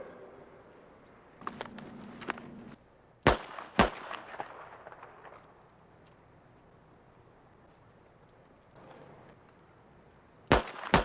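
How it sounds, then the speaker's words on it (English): Pistol shots fired on an indoor shooting range, a few sharp cracks in pairs over a low background hum, with fainter clatter and metallic sounds between them. "each time the target faces you, draw your weapon and fire 2 shots"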